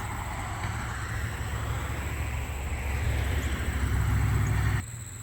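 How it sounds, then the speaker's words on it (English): Steady low rumble of passing street traffic with wind buffeting, heard from a garden, swelling as traffic grows louder, then dropping off abruptly near the end. "even though we're close to the street again. Sorry about the noise."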